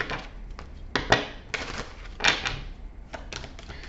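A tarot deck is shuffled up close in a few short, sharp bursts of card riffling and slapping, loud against a quiet background, with no voices.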